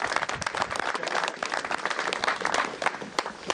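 A crowd at the French boat fishing championship final applauds the 2013 runner-up, dense, sustained clapping from many hands, loud and close, filling the whole moment without speech.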